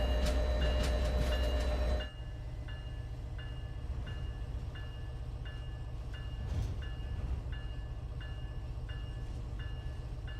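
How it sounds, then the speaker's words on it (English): A train in a train simulation game rumbles steadily into a station, with a loud horn-like blast at the start followed by a continuous low rolling drone and regular rhythmic clicks. "The train approaching the station is the Independence Day 2024."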